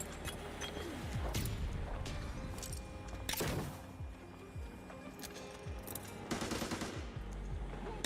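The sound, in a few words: grenade fight in video game Arena Breakout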